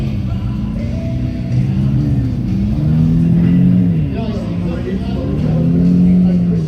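A pickup truck engine in a custom car parade in Las Vegas revs and rumbles nearby, rising and falling in pitch over several seconds while commentators talk over it.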